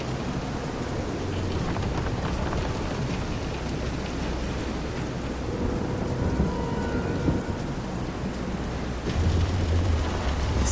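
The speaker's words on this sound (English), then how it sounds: "This is some storm." Heavy storm rain hisses steadily at sea around a boat in the video game Visions of Mana, with thunder rumbling low beneath it and a louder swell near the end.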